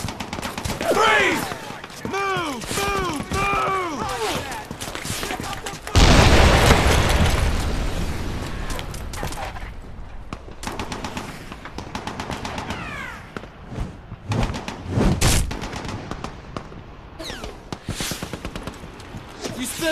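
Squad gunfire in Brothers in Arms: Hell's Highway: rifle shots and bursts crack out in clusters, with a dense loud volley midway and more sharp bursts later, mixed with shouting voices and battlefield clatter.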